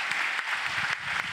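An audience at a raffle event keeps applauding, a brief stretch of steady, moderately loud clapping with a faint voice murmuring beneath it.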